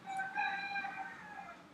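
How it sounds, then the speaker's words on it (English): A rooster crows once, a clear harmonic call that rises and then trails off over nearly two seconds, moderately close against a quiet background with no talking. "Yes, even the rooster agrees."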